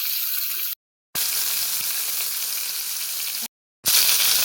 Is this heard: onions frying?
yes